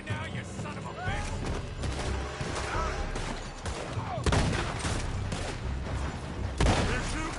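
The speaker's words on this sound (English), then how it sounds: "They're shooting from that building!" Gunfire in a PS4 video game, dense bursts of rapid shots and a few heavier blasts over a busy game soundtrack, with voices talking throughout.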